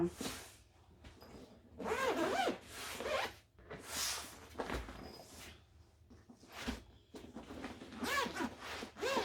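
Zippers on dyed, customised suitcases are pulled open in several quick rasping runs, close and fairly quiet, with short pauses between strokes and faint voice in the background.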